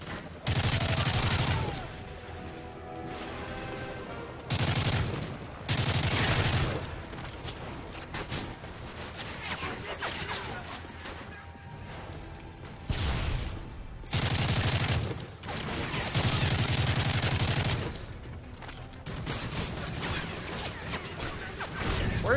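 Gunfire in the video game Modern Warfare 3: loud bursts of automatic fire and repeated shots come in heavy clusters, separated by brief quieter gaps filled with battle noise.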